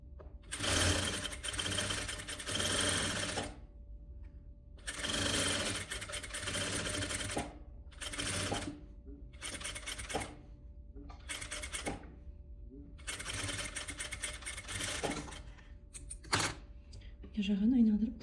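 A sewing machine stitches a boy's vest collar in several rapid whirring bursts separated by short pauses, close and clear, with a person talking quietly in between runs.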